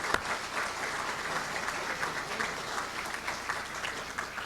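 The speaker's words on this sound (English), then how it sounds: "Let's just clap for that, because that's good." Audience applause at a campaign fundraiser on St Joseph Day, a steady, fairly faint patter of many hands clapping that carries on without pause.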